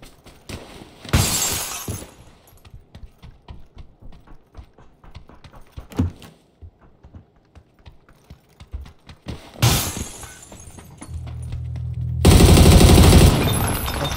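Glass windows shatter in PUBG gameplay with several loud bursts of breaking glass and crashing debris spaced apart, separated by quieter footsteps and rustling, and a heavy noisy burst at the end.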